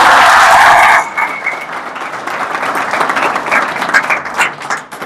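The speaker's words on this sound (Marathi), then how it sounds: "इसलिए उन्होंने दिल से ताली बजाई" An indoor audience at a talk breaks into warm clapping after a brief loud burst of noise, the applause building into a dense, sustained patter that tails off at the end.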